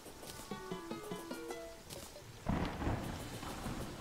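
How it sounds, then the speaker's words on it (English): A thunderstorm rolls in within the game Terraria: a few plucked musical tones first, then a burst of rumbling thunder and rain noise that stays loud to the end, with no talk. "There's a storm brewing."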